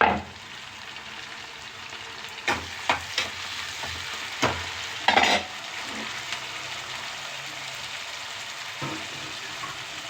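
Onions sauté in a pan for rava kichadi, a steady close sizzle and hiss that runs throughout, broken by several sharp clacks of a spoon stirring against the pan.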